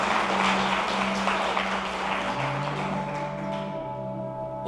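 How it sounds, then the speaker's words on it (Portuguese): Congregation applauding in a church, a loud, continuous wash of clapping blended with sustained musical tones underneath, tapering slightly toward the end. "Você pode aplaudir a Jesus?"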